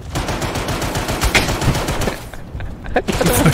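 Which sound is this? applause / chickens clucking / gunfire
gunfire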